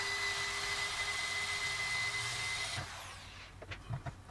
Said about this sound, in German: Jetzt bohre ich vor